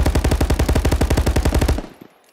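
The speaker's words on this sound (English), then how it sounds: "So if I'm shooting like this" A close, loud machine-gun burst fires in Call of Duty VR Contractors, with roughly twenty rapid, evenly spaced shots. It stops abruptly, leaving a short echo tail and one faint clack.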